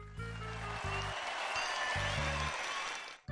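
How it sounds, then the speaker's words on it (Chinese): An audience applauds at a children's magic show, a dense burst of clapping lasting a few seconds over low musical tones. "来帮我鼓鼓掌"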